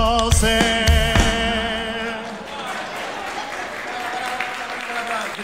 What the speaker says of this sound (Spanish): no aplaudan tanto,